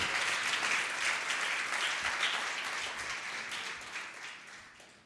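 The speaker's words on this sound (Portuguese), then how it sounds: "Você pode aplaudir o Senhor?" A church congregation applauds during a sermon, a thick burst of many hands clapping that starts full and gradually fades away toward the end.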